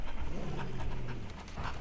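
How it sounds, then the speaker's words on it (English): A dog pants in Resident Evil 4, quick rhythmic breaths repeating close and clear for a couple of seconds with no talk over them. "Oh, my puppies! Look at the pupper."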